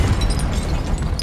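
A deep, rumbling blast sounds from a Confringo spell in the video game Hogwarts Legacy, a loud low-heavy boom with crackling debris that fills the whole short moment.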